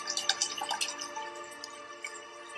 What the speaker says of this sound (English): So I got water over here. We're gonna fill it up, the beaker,